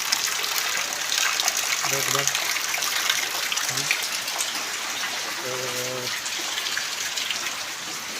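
Monsoon rainwater gushes and patters steadily in a village during the rains, a constant close wash of water, while a voice speaks briefly over it.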